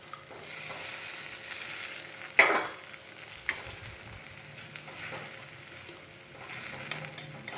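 Brinjal and hilsa fish pieces cook in a pan for a thin curry with green chilli and nigella seeds, giving a steady, soft sizzle and bubble with one sharp clatter partway through and a few light taps, without speech.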